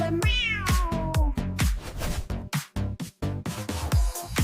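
A cat-themed bhangra dance song with repeated meow sounds over a pounding beat and bass, the meows loud and rhythmic, most likely sung or imitated by voices rather than made by a real cat.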